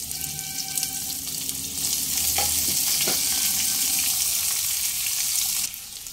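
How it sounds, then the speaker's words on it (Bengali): Two medium chopped onions frying in hot oil in a pan after five-spice tempering, a loud, steady, close sizzle that swells after the first couple of seconds with a few stirring scrapes. "পেঁয়াজ হালকা ভেজে নেওয়ার পর"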